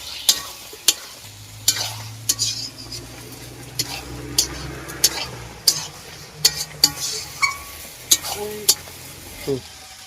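Country chicken marinated in turmeric, oil, lemon and salt fries in a pan, a soft sizzle under sharp, repeated spoon scrapes and clacks as it is stirred up close, at an uneven pace.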